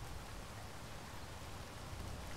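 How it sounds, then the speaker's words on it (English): Steady rain in the Space Engineers video game, a continuous close hiss of falling drops on arrival at the planet's surface, with no talk over it. "Okay, we arrived in a rainy day."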